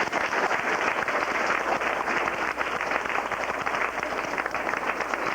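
An audience at a 2001 school awards ceremony applauds assistant principal Mrs. Burns, with steady, dense clapping filling the room without a break, close and fairly loud throughout.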